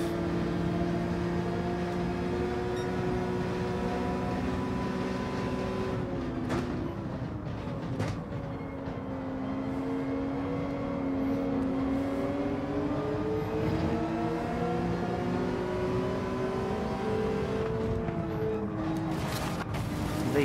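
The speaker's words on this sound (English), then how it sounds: "Actually sitting in a Porsche 911 RSR." A Porsche 911 RSR race car in Gran Turismo 7 drones continuously with a strong harmonic engine note, dipping and rising in pitch as it shifts and accelerates through corners, loud and sustained for the whole stretch.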